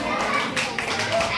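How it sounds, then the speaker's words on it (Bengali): Children at a social awareness program break into a burst of close, dense applause, with voices mixed in among the clapping. "হাততালি দাও।"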